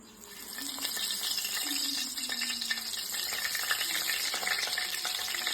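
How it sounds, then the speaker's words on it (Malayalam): Three sprigs of curry leaves dropped into hot coconut oil burst into a loud, steady crackling sizzle that starts abruptly and continues close up without pause. "നല്ല രീതിയിൽ ചൂടായിട്ടുണ്ട് അപ്പൊ നമ്മളത് മൂന്ന് തണ്ട് വേപ്പില അതിലേക്ക് വെക്കുകയാണ്"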